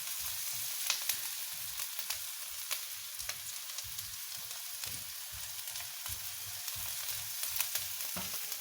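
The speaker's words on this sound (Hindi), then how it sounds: "ये देखिए प्याज जो है फ्राई हो रही है।" Onion fries in a pan while lasagne is being made, giving a continuous soft sizzle and crackle with small popping ticks throughout. The sound is fairly quiet and close, with no talking.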